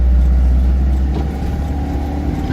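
A learner's car pulling away and accelerating on the road, a steady engine hum at close range that builds a little in pitch as speed picks up, with no voices over it.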